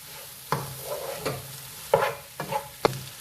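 Boiled potato and vegetable samosa filling being stirred in a pan: about five scraping spoon strokes at an uneven pace, each with a short scrape and clack, over a soft background sizzle.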